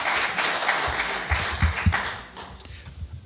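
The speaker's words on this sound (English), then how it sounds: "It deserves a round of applause." Audience applause at an author talk on The Holocaust Averted, a dense wash of clapping at moderate level with a few sharper claps standing out near the middle, thinning slightly toward the end.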